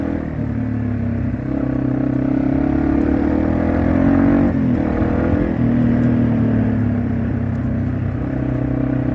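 A Yamaha TW200 motorcycle ridden off-road in Arkansas drones steadily up close, its engine note holding with slight rises and dips and no talking over it.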